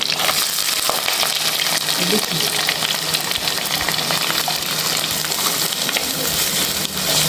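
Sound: onions sautéing in a pan

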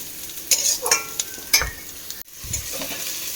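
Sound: stirring and frying potato curry with tomato, salt, turmeric, green chili

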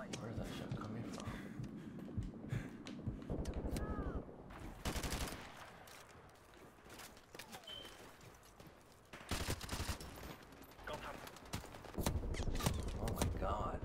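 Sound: gunshots in Call of Duty 4 Modern Warfare Remastered video game

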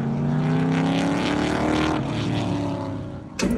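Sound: MG car engine firing up after a month of hibernation

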